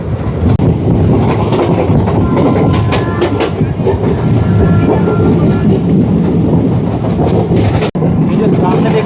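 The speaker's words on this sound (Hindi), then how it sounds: "सामने कोई ट्रेन है जा रही है भाई हमारे सामने" A passenger train from Darbhanga rolls past on the adjacent track, a steady loud rumble with clattering wheels that fills the whole stretch, heard from aboard the Uttaranchal Sampark Kranti heading to Kathgodam.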